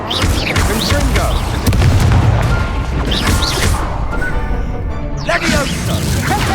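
Spell blasts and crashes in Hogwarts Legacy combat, loud booming impacts repeating through a dense, chaotic battle mix with shouted voices over the top.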